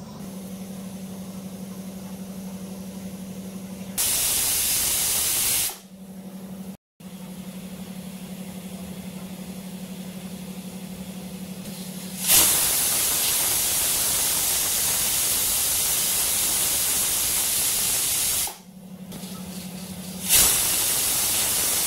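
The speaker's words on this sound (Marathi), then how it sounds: "त्याच्या मी 3 शिट्ट्या काढून घेते" A pressure cooker full of tomatoes with ginger and garlic lets out loud, sustained steam-whistle hisses, three bursts in all, with a low steady hum between them.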